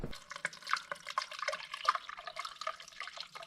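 Water being poured into a car's cooling system before starting it, a steady splashing and gurgling pour with intermittent drips, close by and moderately loud.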